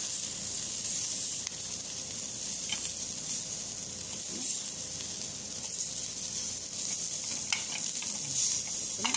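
Dried fish frying in a pan with little oil produces a steady close sizzle and hiss, broken by occasional light scraping and pops, continuous for the whole stretch with no voices.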